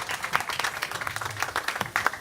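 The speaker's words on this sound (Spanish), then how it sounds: "démosle un fuerte aplauso a ellos también" A church congregation applauds visitors, dense steady clapping from many hands filling the room, loud and close, with no voices over it.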